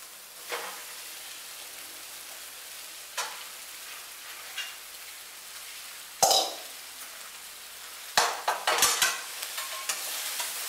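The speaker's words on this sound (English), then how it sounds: "Mix it up well." Poha being stirred in a pan with onion, turmeric and salt: a soft steady sizzle under repeated scraping strokes of a spoon, with a louder clatter near the middle and a burst of stirring toward the end.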